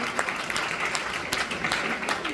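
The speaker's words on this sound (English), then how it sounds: "can we have a round of applause for Swapna and Priyanka?" Audience applause at a New York Q&A with the Kalki 2898 AD team, a steady, full wash of many people clapping with a few sharper claps standing out, loud and continuous.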